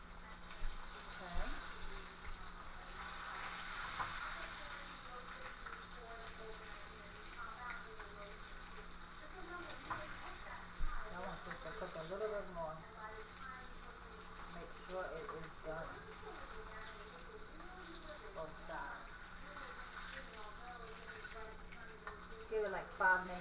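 Okra, tomatoes and onion simmering in tomato sauce over a lowered flame, a quiet steady bubbling hiss with faint intermittent clinks, heard at a distance under a person talking.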